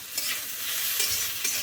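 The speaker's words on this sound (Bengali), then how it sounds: "এদিকে হলো বাঁধাকপি ভাজা ভাজা করছি আজকে" Cabbage fries in a pan, a steady close sizzle broken by a few scraping stirs, with no voices over it.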